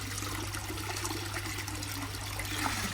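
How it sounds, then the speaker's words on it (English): Water pours steadily into a garden pond, a continuous faint trickling and splashing without a break, heard alone at low level. "Let's get a little bit more water in there actually"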